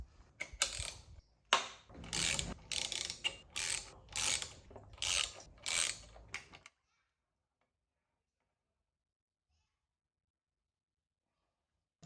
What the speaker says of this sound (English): you gotta really pull on this housing here equally until it separates from the bearing here